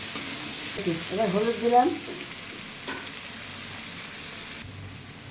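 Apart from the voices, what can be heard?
potatoes and chillies frying and being stirred in a pan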